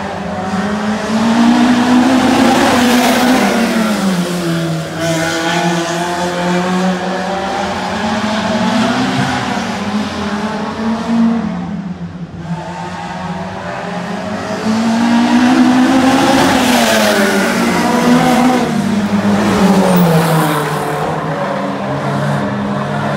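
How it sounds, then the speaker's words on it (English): Stock cars lap Cowdenbeath Racewall during a private practice session, their loud engines roaring continuously, pitch rising and falling as they accelerate and pass close by. "Numerous months of wait and preparation to get a shot of the stock car"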